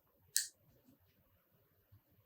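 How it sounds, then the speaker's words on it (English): Scissors snip off a leftover bit of floral chenille wire in a single sharp, close click, followed by faint handling noises in a quiet room. "Cut off this little bit of extra."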